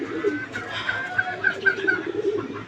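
A silver Giribaz pigeon cooing up close, a few soft repeated coos with faint background noise and no talking.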